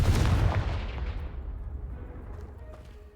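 A Confringo blasting spell in Hogwarts Legacy strikes a pile of debris and sets off one loud, booming explosion that rolls away into a long, fading rumble.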